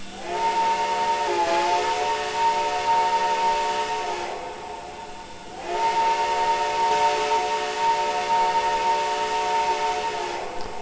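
Sustained steam locomotive whistle on an R&N 425 4-6-2 in Trainz 2019, two long chime blasts separated by a short hissing gap, loud and close.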